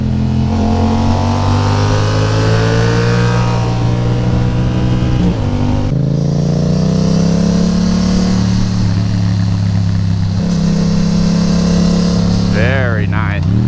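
A Yamaha FZ-07 motorcycle engine drones loudly up close while riding, rising and falling through revs with gear changes, a brief quick rev burst near the end, and a rider's voice over it.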